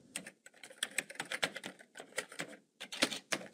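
Rapid, irregular clicking of keys on a computer keyboard as an account number is entered, crisp and close, with a short pause near the end before the typing resumes.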